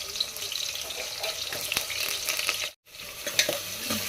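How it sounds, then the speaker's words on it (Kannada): Mustard seeds, cumin, onion and green chillies fry in a pan with a soft, close sizzle and crackle. Light stirring scrapes come through, and there is a brief silent gap near the end. "ಸಾಸಿವೆ ಜೀರಿ ಹಾಕೊಳ್ಳೋಣ ಏನು ಕಾದಿಲ್ಲ ಉಳ್ಳಾಗಡ್ಡಿ ಆಮೇಲೆ ಒಂದೆರಡು ಮೆಣಸಿನ್ಕಾಯಿನ ಹಾಕೊಂಡು ಫ್ರೈ ಮಾಡೋಣ ರೀ"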